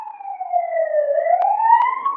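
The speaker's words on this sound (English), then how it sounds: "I'm gonna wait for that siren to pass." Police siren passing outside, a single sustained wailing tone slowly falling then rising again, fairly loud and steady, with no talk over it.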